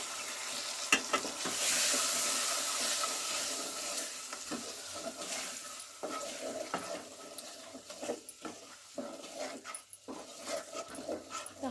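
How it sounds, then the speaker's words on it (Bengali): Chicken sautéed in a pan with ground cumin and coriander, a soft steady sizzle with gentle stirring scrapes and a few scattered clicks throughout, the cooking sounds fairly faint. "তো হালকা হাতে আমি চিকেনটা কষাচ্ছি"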